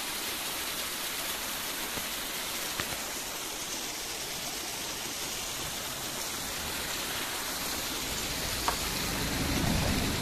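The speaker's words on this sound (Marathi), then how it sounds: "एक छोटा धबधबा या ठिकाणी तयार झालेला आहे." Small waterfall formed by overflowing pond water after heavy rain, a dense continuous hiss and splash like steady rainfall, even in level throughout with a faint low rumble building near the end, no one speaking.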